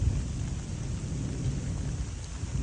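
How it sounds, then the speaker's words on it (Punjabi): Heavy rain pours continuously with a deep rumble of thunder underneath, loud and steady throughout. "ਤੇ ਰੱਬ ਲਸ਼ਕੀ ਵੀ ਜਾਂਦਾ ਤੇ ਮੀਂਹ ਵੀ ਪਾਈ ਜਾਂਦਾ"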